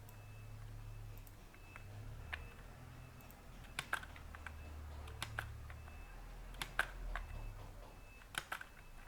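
Computer keyboard keys are pressed for Ctrl C and Ctrl V shortcuts, a few sparse, soft clicks spread over a quiet background hum.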